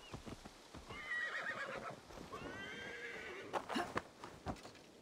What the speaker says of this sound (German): Dann rufe ich mal mein Pferd.